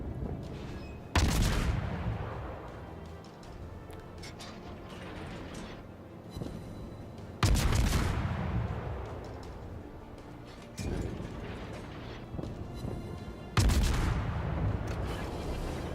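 Naval guns fire armor-piercing salvos in World of Warships: three heavy, booming broadsides land several seconds apart, each a loud, close blast with a long rumbling decay over a low steady background.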